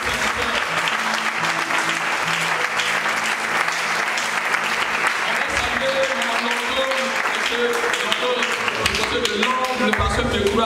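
A church congregation claps and applauds at an evening service, a dense continuous roar of many hands that holds steady for the whole stretch, with voices mixed in.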